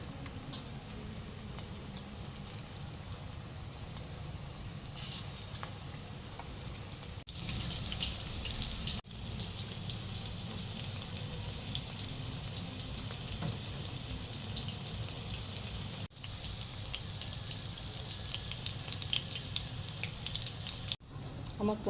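Small chicken pakoras fry in lightly heated white oil, giving a steady bubbling sizzle close up that swells louder at a few points and runs continuously throughout.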